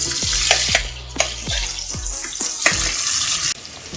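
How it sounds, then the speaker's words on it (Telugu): Three medium-size chopped onions dropped into hot oil for mutton paya curry, a bright continuous frying hiss with several low thumps as pieces are added, close and alone. "చక్కగా ఈ విధంగా తరుక్కుని ఈ కాగిన నూనెలో వేసేసుకోండి. ఈ ఉల్లిపాయలు చక్కగా వేగనివ్వండి."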